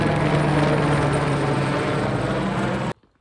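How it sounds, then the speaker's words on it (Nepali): Helicopter close by high in the Himalayan mountains near Tilicho Lake in Manang, Nepal, a loud, steady rotor and engine roar holding for about three seconds, then cutting off abruptly. "गाइज हेलिकप्टर नजिकबाट हेर्छु"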